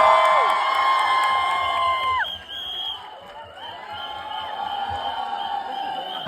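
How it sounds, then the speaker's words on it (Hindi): A crowd at a film premiere cheers and whoops loudly, with shrill rising and falling voices over a steady roar; the noise dips briefly midway, then swells again. "With a huge round of applause, please welcome the one and only Nawazuddin Siddiqui"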